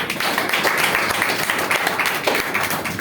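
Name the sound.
applause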